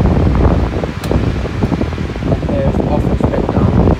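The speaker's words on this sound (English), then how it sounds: "Wow, this fan is very loud and powerful." A grey Bionaire 16-inch oscillating pedestal fan runs close by, giving a loud, steady rushing wash of air with gusty buffeting on the microphone and a faint whine near the middle.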